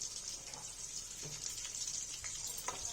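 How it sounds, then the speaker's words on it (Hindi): Eggplant slices frying in oil in a pan, a soft, steady hiss of sizzling with faint scattered pops and light stirring, quiet and continuous. "बचा हुआ बैगन भी फ्राई कर लेंगे"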